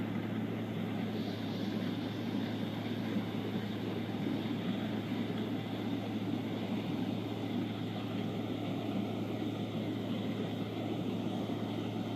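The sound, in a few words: small sightseeing airplane flying over the Grand Canyon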